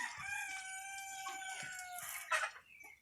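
A rooster crows once, a long harmonic call close by, ending with a few clucks.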